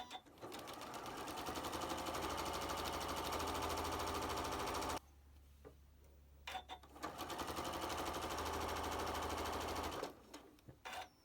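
A sewing machine runs in two long bursts, stitching three fabric seams together for a quilted trees block, its fast steady rattle close and loud, with a short pause between runs.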